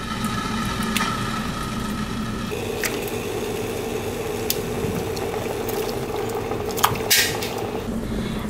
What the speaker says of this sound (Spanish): Ponemos suficiente agua a hervir y agregamos la carne.